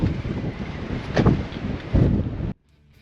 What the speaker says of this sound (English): the wind is absolutely incredible here at the moment